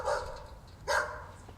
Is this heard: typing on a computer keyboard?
no